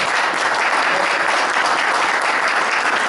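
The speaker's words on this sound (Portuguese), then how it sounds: "Vamos louvar o Senhor com uma salva de palmas por causa desse homem de Deus que está aqui, apóstolo Abner." A church congregation in Rio de Janeiro breaks into sustained applause honoring an apostle, a loud, uniform wash of many hands clapping without pause.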